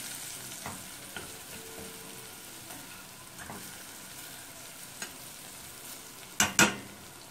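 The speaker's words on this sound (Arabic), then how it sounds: "نص معلقة كزبرة عشان تطلع معانا ريحتها لما تتحمر مع البصل." Coriander fries with onions in oil, giving a soft, steady sizzle beneath occasional spoon stirs and scrapes, with a couple of sharper clatters near the end.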